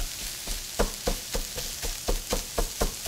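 Scrambled eggs sizzle in a pan while a utensil chops them into small pieces, steady frying hiss broken by about ten regular knocking taps, close and alone with no talking.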